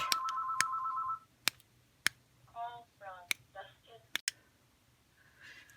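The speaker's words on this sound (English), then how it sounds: "Oh, phone's ringing." A telephone rings in a home: a steady electronic ring at the start that stops after about a second, followed by scattered clicks and a short burst of chirpy sounds.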